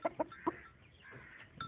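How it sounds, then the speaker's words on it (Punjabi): A rooster on a small farm gives a few short, clear clucks in quick succession, close and fairly loud, followed by softer scratchy sounds and quiet background. "ਇਹ ਮੁਰਗਾ ਸਾਡਾ ਆਪਣਾ ਹੀ ਆ"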